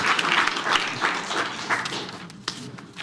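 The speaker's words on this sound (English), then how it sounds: "Let us give a round of applause to our panelists." Audience applause for a panel at a philanthropists' round-table conference, a steady crowd clapping that holds for about two seconds and then thins into scattered, fading claps.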